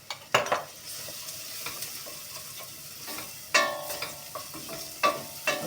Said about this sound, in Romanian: Haideți că călesc ceapa și atunci vă arăt.